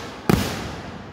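A single firework bursts at a Fourth of July show, one sharp loud bang followed by a short decaying rumble.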